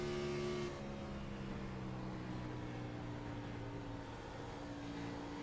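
A race car engine in a racing video game holds a loud, steady tonal drone, the note shifting as the throttle is worked, with no talk over it.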